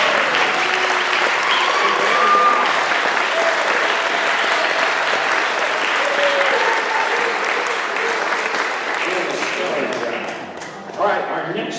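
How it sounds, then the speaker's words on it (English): A concert audience at a jazz piano showcase applauds pianist Dylan Johnson with loud, sustained clapping that holds for about ten seconds before tapering off near the end. "how about another nice round of applause for Dylan Johnson?"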